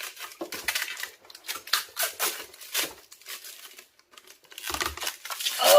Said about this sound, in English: Let's go and take off the wrapper.